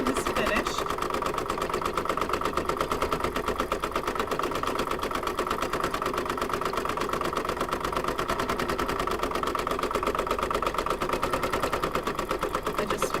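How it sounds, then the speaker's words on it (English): A home embroidery sewing machine stitches a decorative border around a satin-stitched apple coaster design, its needle hammering in a fast, steady, even rhythm that runs close and loud for the whole stretch. "there is just a little bit of decorative border stitching that's going to take place now that the satin stitching is finished"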